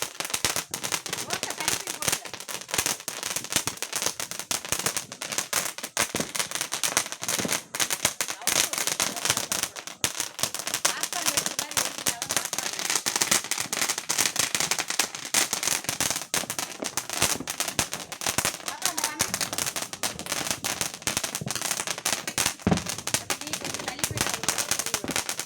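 A popcorn lollipop firecracker bursts during a Diwali celebration in a long, dense stream of rapid crackling pops. The crackle stays loud and continuous for about 25 seconds while voices are heard around it.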